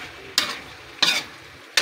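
A frying pan packed with pancit gisado ingredients, including squid balls and kikiam, is stirred in three sharp scraping bursts spaced under a second apart, close and fairly loud over a low background hiss.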